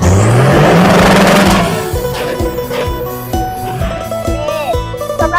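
A six-wheel truck with a six-cylinder engine revs hard and loud at a racing event, the engine pitch climbing then settling into a rough, pulsing idle amid a noisy crowd.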